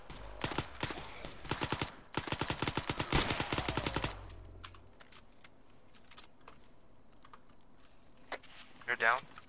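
Video game gunfire in Arma 3: a loud rapid burst of automatic shots, then a second longer burst, followed by scattered single shots and softer clicks, with voices talking.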